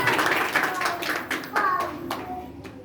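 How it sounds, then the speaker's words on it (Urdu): Hands clap in a congregation during an Urdu-language church sermon, a short burst of sharp, scattered claps with voices mixed in, moderately close and fading toward the end. "تالیاں بجانے خداوند"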